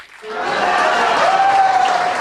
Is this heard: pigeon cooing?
no